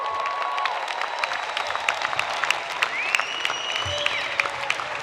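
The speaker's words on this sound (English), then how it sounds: "give them a round of applause for helping you get here" Graduates at an SPS convocation applaud their families and friends in a large hall, a broad, sustained clapping with a few faint tonal sounds drifting above it and no speech.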